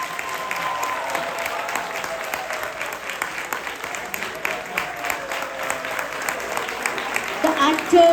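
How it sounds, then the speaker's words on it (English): Sustained audience applause for the cast and crew of a Ramayana drama at a temple's Ram Navami celebration, steady and fairly loud, with scattered voices calling out within the crowd. "Please give a big round of applause."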